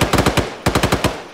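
Rapid automatic gunfire in a cooperative video game shooting at a vampire, two loud close bursts of about five shots each separated by a brief gap.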